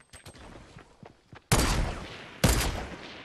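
Grenade launcher rounds fired in a Fortnite match: two loud, sharp blasts about a second apart, each with a long rumbling tail, following several faint clicks and small pops.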